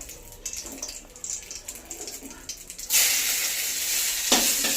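Cumin seeds hit hot oil in a wok that is already blackened from frying soybeans, and the sizzle flares into a loud, steady hiss after a quieter stretch of faint kitchen sounds. The hiss carries on without a break to the end.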